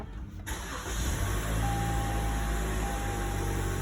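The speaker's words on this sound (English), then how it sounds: "with the smart key system, you'll just have to touch that power button one time, and it'll start right up" A car engine cranks and fires up after a single press of a push-button smart key start, settling quickly into a steady, close idle with no talking.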